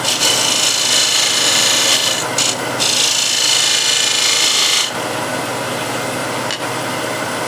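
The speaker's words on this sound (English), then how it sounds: "So a small spindle gouge again, and just make this side nice and clean" A small spindle gouge cuts along a spinning wooden workpiece on a lathe, a steady loud hissing scrape that eases briefly near the middle and drops to a softer, duller shaving tone for the final stretch.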